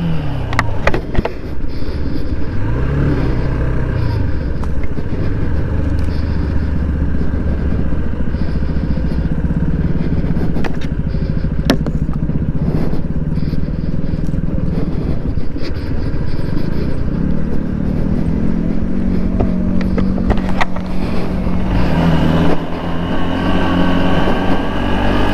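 A pickup truck grinds along a rough mountain road in Bandarban, a loud, continuous engine drone heard from onboard with rattles and clatter from the bumpy ride, its pitch shifting as it works through gears.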